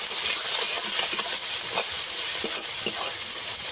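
Chopped onions fry with bay leaves and a spoonful of sugar in a pan, giving a loud, steady sizzle and hiss with faint stirring clicks throughout, no voices.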